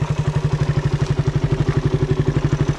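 A stock 2011 Suzuki Raider 150 motorcycle engine and original exhaust idle close by, putting out a loud, steady, rapid pulsing putter with a fast even rhythm.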